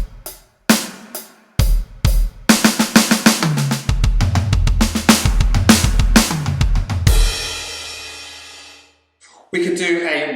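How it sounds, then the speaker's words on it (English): Drum kit played in a lesson: a slow groove of sharp hits gives way to a dense run of fast strokes across the drums, closing on a ringing cymbal crash with a brief pause and more drumming after. "So the first one you can do is just play 6 single strokes, 1, 2, 3, 4, 5, 6."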